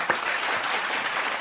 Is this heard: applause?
yes